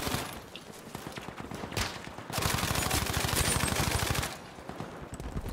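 Rapid bursts of M1922 machine gun hipfire in Battlefield 5 gameplay, a dense rattling stream of shots with a louder sustained burst in the middle, sounding close and continuous with no talk over it.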